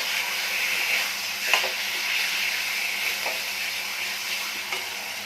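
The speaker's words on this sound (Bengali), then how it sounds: "কচু শাকটা দিয়ে হলুদ আর কাঁচা লঙ্কা দিয়ে দিচ্ছি" Taro leaves with turmeric and green chili frying in a pan, a steady close sizzle with faint stirring scrapes and a few soft clinks, no talk.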